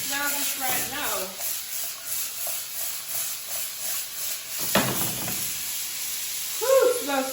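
Chopped onion and pineapple sautéing in a pan for sweet and sour chicken, a steady soft sizzle with occasional stirring scrapes and a person talking over it.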